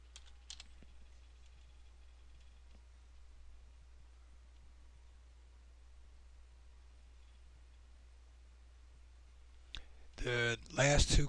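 Someone types on a computer keyboard while setting up a website install. A few faint clicks come early, then a quick, loud burst of keystrokes at the very end after a long quiet stretch.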